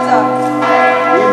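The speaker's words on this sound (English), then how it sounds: "You can hear the bells." Church bells ring near the cathedral in Old Geneva, loud, close and sustained, their rich overlapping tones filling the whole moment without any talking.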